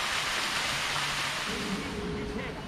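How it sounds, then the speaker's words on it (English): Constant rushing water from a small waterfall at Ngau Wu Reservoir, a broad steady roar close by, with faint voices murmuring underneath. "Ito, mini waterfalls."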